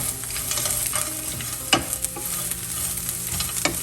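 Bottle gourd peels with crushed vadi stir-fried in a pan, a continuous close sizzle with intermittent scrapes and taps of a stirring spoon.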